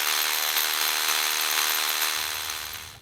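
An SDS hammer drill grinds steadily into rock at close range for a few seconds, its tone shifting and dropping near the end as it slows.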